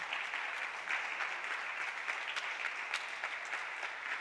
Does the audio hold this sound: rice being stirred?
no